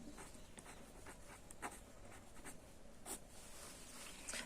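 A pen writes on paper in faint, steady scratching strokes against a constant background hiss, with a few slightly sharper marks along the way.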